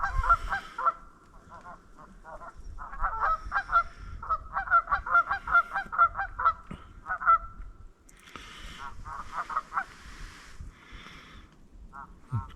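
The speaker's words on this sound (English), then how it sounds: "the geese are noisy." Geese honk repeatedly outdoors after a spring storm, heard during a turkey and bear hunt, with clustered bursts of loud calls at moderate distance, brief pauses, then more honking from the flock.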